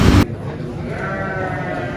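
Garut sheep bleat at the Tanjungsari sheep market in Sumedang, one loud close bleat cut short, followed by a busy background of market crowd murmur and other animals.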